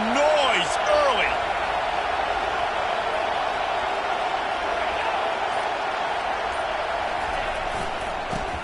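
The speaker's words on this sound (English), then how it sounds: "This crowd bringing the energy and noise early." Steady roar of a large football stadium crowd during a game, sustained and loud throughout, with a few brief whistle-like tones and a shout near the start.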